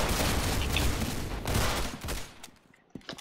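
A rocket launcher in the game Roblox fires in a loud, rapid burst of blasts that fades out near the end, heard alone.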